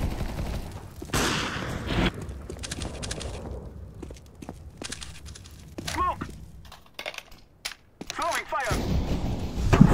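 Gunfire in the video game Counter-Strike 2, with repeated sharp shots and bursts scattered through the round while a player calls out over them.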